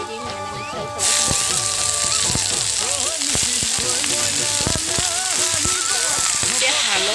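Mixed vegetables with bay leaf and onion hit hot oil in a kadai, bursting into a loud, steady sizzle that continues without letup, with faint clatter and occasional background voices underneath.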